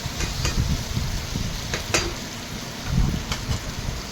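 Potatoes and onions with spices being stirred in a frying pan, a steady sizzle broken by repeated scraping and clinking strokes of a spoon against the pan, close and alone.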